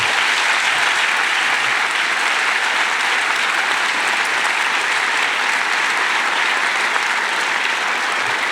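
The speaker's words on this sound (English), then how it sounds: "Let's give them another round of applause" A youth salute ceremony audience gives outstanding youth leaders another round of applause, a sustained, even wall of clapping from a large crowd with no break.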